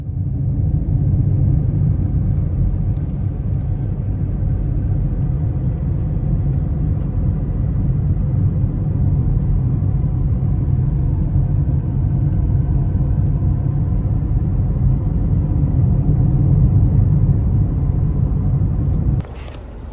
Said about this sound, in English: So I got this hot rod Kia Pegasus and headed northeast to the Hajar Mountains.